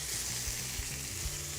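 Cod fillet frying in a pan, a steady close sizzle and crackle of hot oil running throughout with a few soft bumps, no voices.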